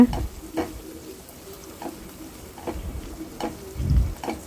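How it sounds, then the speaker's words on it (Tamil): Onions and garlic sauté in a pan with a soft, steady sizzle, interrupted by a series of evenly spaced stirring scrapes and a low thump near the end, fairly quiet and close. "நான் அதையும் சேர்த்து நல்லா வதக்கிடுங்க"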